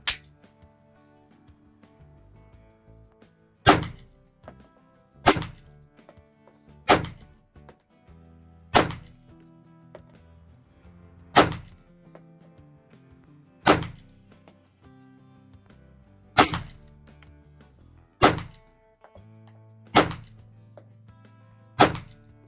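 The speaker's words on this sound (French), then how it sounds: "Je vais enchaîner 10 tirs rapidement en gardant toujours la cible en joue." FN 509 LS Edge pistol fired in rapid succession at a shooting range, ten sharp loud shots at roughly even intervals, each with a short decaying tail and quiet between.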